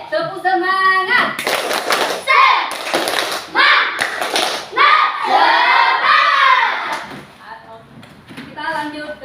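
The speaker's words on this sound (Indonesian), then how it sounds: "Tepuk semangat" A classroom of children does a rhythmic spirit clap, loud close hand claps in patterned bursts mixed with the children's chanted voices.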